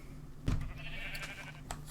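Minecraft sheep give a single short bleat near the middle, clear and fairly close, over a low steady game background with a few faint clicks.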